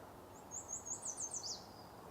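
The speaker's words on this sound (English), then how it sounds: "Oh, purple finch" Purple finch song at a marsh in the early morning: a faint, distant run of quick high warbled notes lasting about a second, with no voices.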